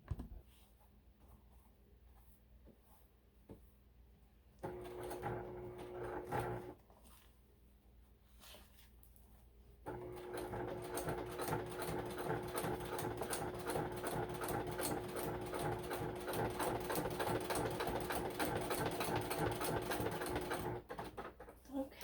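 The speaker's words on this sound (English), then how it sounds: "And then I will just simply clip this around the bottom and then sew it on." A sewing machine stitches along the edge of a polyester bag, its motor whirring in short bursts at first, then running steadily for a long continuous stretch before stopping.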